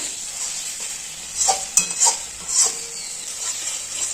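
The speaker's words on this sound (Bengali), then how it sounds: "এর মধ্যে দিয়ে দিচ্ছি এখন ইঁচড়গুলো সেদ্ধ করে রাখা আর ভেজে রাখা আলুগুলো মিশিয়ে দিলাম" A spoon stirs boiled young jackfruit and fried potatoes into a sizzling spice gravy in a pan, with soft scraping strokes over a steady hiss.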